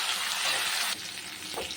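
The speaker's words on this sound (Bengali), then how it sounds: "আলুটাকে একটু ভেজে নিই, তারপরে বেগুনটা দেবো।" Potato, eggplant and tomato fry in a pan for a tengra fish curry, giving a short, soft, even sizzle that dips briefly partway through. No one speaks.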